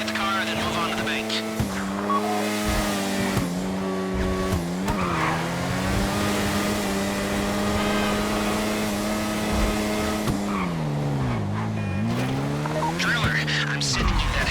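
Engine roar of a car driven in the video game GTA Online on the Fleeca Job heist, with rising and falling revs and bursts of tire squeal, loud and continuous throughout, with faint voices underneath.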